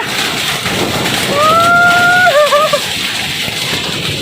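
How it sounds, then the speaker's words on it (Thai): Heavy rain mixed with hail pounds down during a thunderstorm in Sakon Nakhon, a dense, steady roar throughout, with a brief rising whistle-like tone cutting through near the middle. "ตอนนี้ฝนตกแรงมาก"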